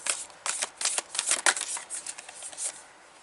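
A large tarot deck is shuffled and cut by hand, a quick run of crisp riffling flutters and soft card slaps bunched close together, fairly quiet and with no talking.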